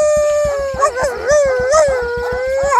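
A man imitates a dog's howl, a long wavering vocal wail rising and falling with clear harmonics, carried over a steady rhythmic beat in the background.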